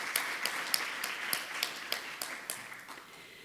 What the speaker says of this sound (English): if the delegates could please give a huge round of applause to all of the speakers